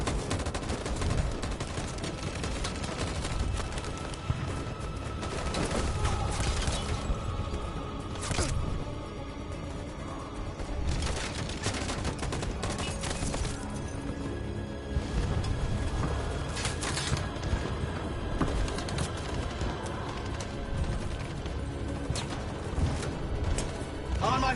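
Sustained gunfire in the video game Detroit: Become Human: bursts of rapid shots and loud cracks come in waves over about 25 seconds, some close and heavy, with voices calling out between volleys.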